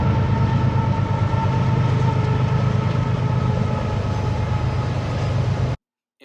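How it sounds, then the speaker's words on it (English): A freight train rolls past at close range on the Allegheny Passage, loud, steady low rumble and rail clatter filling the whole stretch before cutting off abruptly near the end. "We pause on the Allegheny Passage for this word from a train."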